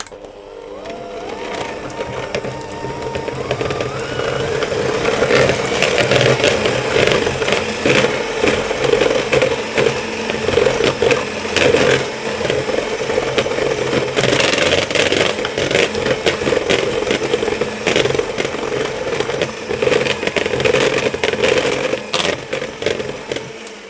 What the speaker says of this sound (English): I'm going to beat that butter just by itself